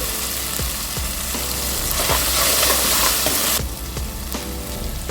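A horse gram dal rice base sautéing in a pan, with a loud, dense, continuous sizzle and regular spoon scrapes against the pan, close up, no talking.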